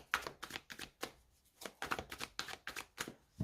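A deck of tarot cards is cut and handled, giving a quick run of soft, papery snaps and riffles, about a dozen short bursts in an uneven rhythm, close and fairly quiet, with no voice.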